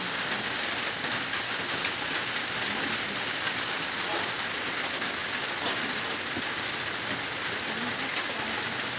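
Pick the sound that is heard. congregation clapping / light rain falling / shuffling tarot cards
light rain falling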